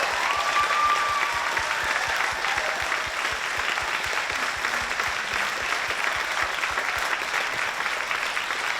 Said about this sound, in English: And let's give them a very big round of applause,